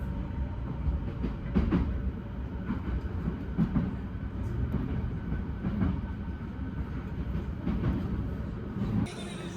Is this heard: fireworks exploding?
no